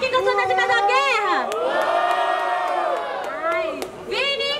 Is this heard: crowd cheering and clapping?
yes